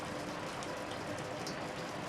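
Steady rain falls in the video game Shadows Over Loathing, a soft continuous hiss at low volume with no voices over it.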